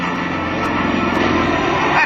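A Pitts Model 12 aerobatic airplane sweeps past in a knife-edge scissor pass at an airshow, its engine a loud, close, rising drone with a throbbing propeller buzz.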